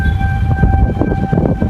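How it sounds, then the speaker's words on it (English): Tornado sirens in Fort Mill, South Carolina blare loud and steady amid heavy rain and storm noise, sustained wailing tones over a rough low rumble. "tornado sirens blare and heavy rain comes down"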